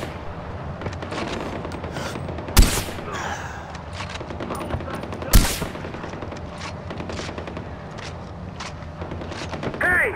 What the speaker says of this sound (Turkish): Bad guys coming in from... I'm taking fire!